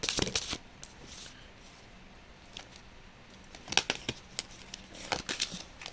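A deck of tarot cards being shuffled, crisp riffling bursts at the start and again near the end with quieter handling between, close and clear with no talking.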